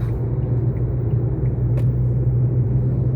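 A car cruises smoothly along an Italian road, heard from inside as a steady, loud low rumble of engine and tyres with no bumps or jolts, and no talking.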